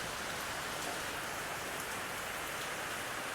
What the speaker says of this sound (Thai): ฝนมันตก